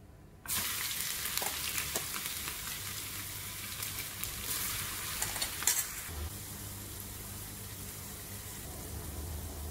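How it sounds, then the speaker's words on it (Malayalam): Crushed shallots and garlic drop into hot oil with popped mustard seeds for a mixed vegetable upperi, bursting into a loud, steady sizzle that stays close and continuous, with light stirring scrapes. "ഇനി അതിലേക്ക് ചുവന്നുള്ളിയും വെളുത്തുള്ളിയും ചതച്ചത് ചേർത്ത് കൊടുക്കുക."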